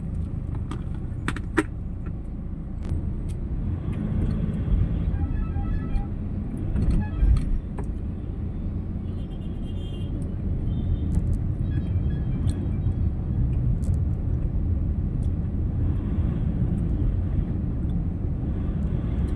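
Dense road traffic rumbles along Quezon Avenue, a constant low engine drone with passing vehicles, scattered clicks and jangles from inside a car, and no voices.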